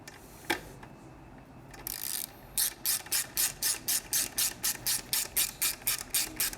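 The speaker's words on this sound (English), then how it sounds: "Torque wrench, your 5mm" Torque wrench clicking as it tightens a 5mm hex bolt on Triumph shock hardware: one click, a short buzz, then a steady run of about a dozen evenly spaced ratchet clicks, close and clear.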